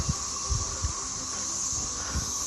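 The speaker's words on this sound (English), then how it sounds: "that's the sound of the cicadas." Periodical cicadas, 17-year and 13-year broods emerging together in the woods, hold a steady, dense high-pitched drone throughout, with a few soft low thumps underneath and no talking.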